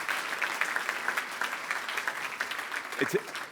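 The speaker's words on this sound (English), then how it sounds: "Give it a big round of applause." Audience at an in-person university Madden video game competition applauding steadily at moderate level, with a brief thump near the end.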